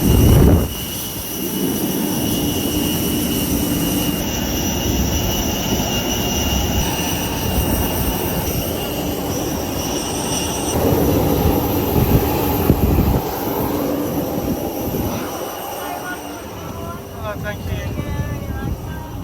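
Jetstar Airbus A321neo LR jet cabin on a Bali to Melbourne flight, a steady loud engine and air roar filling the space, with an announcement voice over it.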